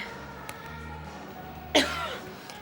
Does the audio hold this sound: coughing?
yes